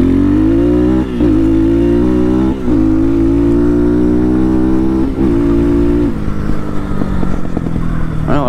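Loud, close motor of an Amazon-bought dirt bike accelerating hard through the gears, its pitch climbing in repeated runs with brief dips at each shift, then rougher and lower near the end.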